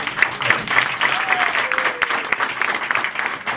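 Audience applause for graduates at a church institute ceremony, continuous dense clapping from a sizeable crowd, loud and close, with faint voices beneath.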